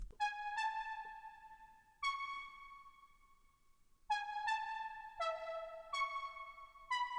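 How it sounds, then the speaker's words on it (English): A bright, plucky synth plays a slow melody of sustained notes, each starting with a sharp attack and ringing out, with no voices. "This time I made a lead synth that looks and sounds like this."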